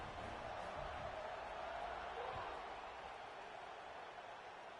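A stadium crowd in the NCAA 26 college football video game keeps up a dense, steady roar after a score, a broad wash of noise with no pauses and faint commentary underneath.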